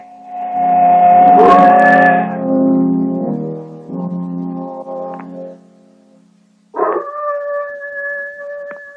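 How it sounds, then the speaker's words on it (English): A pack of hounds on a scent trail howl and bay together in long, wavering tones, then a fresh, steadier howl starts after a short lull. "A pack of hounds is trailing me. You can probably hear them."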